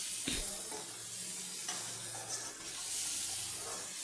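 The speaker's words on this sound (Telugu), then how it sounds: "సాల్ట్ వేసి మళ్ళీ ఒకసారి కలిపి కలిపోతుంది" A spoon stirs a drumstick and tomato curry with salt in a pan, giving a soft scraping stir over a quiet, steady sizzle, with a sharper knock near the start.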